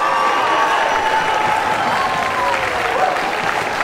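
A fired-up crowd at a Karate Combat bout in Okinawa applauds and cheers loudly and steadily after time expires, a dense wall of clapping and shouting that never lets up.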